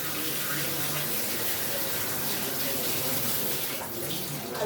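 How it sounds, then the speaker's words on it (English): Running tap water pours steadily into a kitchen sink while hands are rinsed, a close, continuous splashing rush with no pauses. "I'm just going to keep this and wash my hands."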